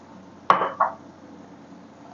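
A spoon clinks twice against a pan while instant Maggi noodles are stirred with Schezwan chutney, two quick, fairly close metallic knocks followed by near quiet.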